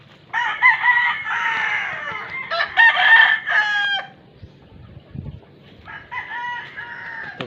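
Chickens in a small backyard coop cluck and call loudly at close range, several overlapping squawking bursts with brief pauses between them.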